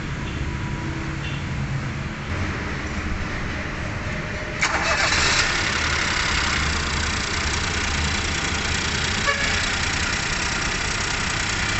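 A 2018-2022 Ford EcoSport with the 1.0 EcoBoost engine cranks and catches mid-clip, then settles into a steady close idle after a low ambient hum.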